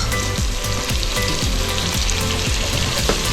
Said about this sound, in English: I'm also gonna add 2 tablespoons of soy sauce.